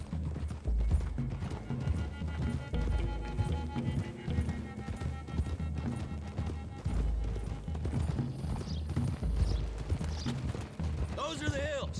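Hooves clop in a steady trotting rhythm in Red Dead Redemption 2, with a horse whinnying near the end, all under a continuous backdrop of other sound.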